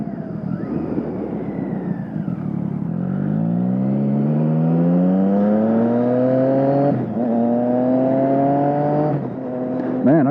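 A Triumph Street Triple 675 motorcycle pulling away under a rider, its exhaust note climbing steadily through the revs, dipping briefly at each gear change and rising again, loud and close throughout.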